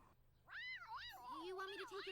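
A cartoon cat meows in a drawn-out, wavering cry from a Sailor Moon episode, clear and close for about two seconds, no talking.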